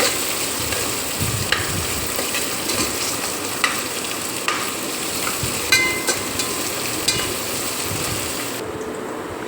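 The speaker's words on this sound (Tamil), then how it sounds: "இப்படியே போட்டு நல்லா வதக்கி விட்டுடலாம்" Tomatoes with salt sauté in a pan for rice and dal, giving a loud continuous close sizzle with scattered clinks and scrapes of stirring throughout.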